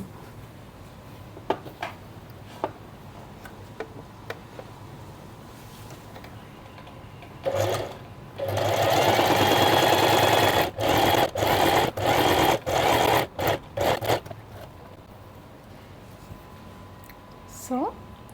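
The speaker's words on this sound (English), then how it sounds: "and then we sew here close to the edge." A domestic sewing machine runs stitching fabric close to the edge of a dress seam, starting after quiet handling sounds with a sustained burst, then several short stop-start runs, loud and close with no talk over it.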